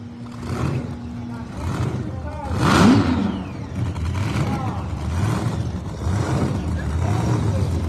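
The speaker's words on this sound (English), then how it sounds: "The little small block is running." A small-block engine in a Pro Mod drag car at Empire Dragway, Northeast Outlaw ProMod round one, rumbles and revs in repeated swells at a distance, beneath continuous announcer commentary over a loudspeaker.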